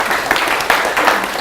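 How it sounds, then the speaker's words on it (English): Brief burst of applause from a conference audience at a technology talk, a dense wash of clapping at steady volume, close and loud, lasting only a moment. "can we have a round of applause for those guys"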